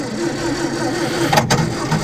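A classic car's engine cranks on a weak battery, a sluggish, labouring churn under a pull starter that holds throughout, with a brief sharp catch or rasp near the middle.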